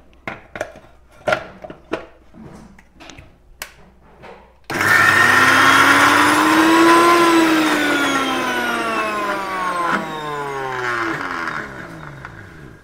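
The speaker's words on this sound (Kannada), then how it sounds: "ನಾನು ಮಿಕ್ಸಿ ಮಾಡ್ಕೊಂಬಂದಿನಿಲ್ಲಿ" A kitchen mixer grinder coarsely grinds soaked black-eyed peas into vada batter. A few light knocks come first, then the motor starts abruptly and whines loudly and close for about eight seconds, its pitch swelling and falling as it runs.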